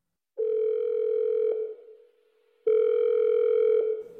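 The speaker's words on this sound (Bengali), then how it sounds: "বিকেলে বাগুইহাটি থানার ওসি কৃষ্ণচন্দ্রকে ফোন করল অলি।" A telephone rings in an audio drama, two long electronic tones with a pause between them, clean and close against silence.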